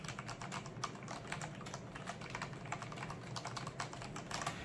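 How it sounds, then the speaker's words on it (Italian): Fast, steady typing on a quiet Corsair K68 mechanical keyboard, a dense run of soft clacking keystrokes heard alone and close up. "praticamente è una tastiera meccanica ma molto silenziosa"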